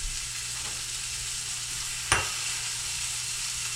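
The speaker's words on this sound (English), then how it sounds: "I'm stirring the onions just a little bit." Onions fry in a pan with a steady, faint high sizzle, and one sharp scrape of stirring cuts through about midway.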